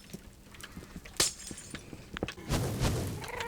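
Glass blocks are broken in the Minecraft video game: one bright shattering crack early on, then a longer, busier crunching burst near the end, over scattered faint gameplay clicks and thuds.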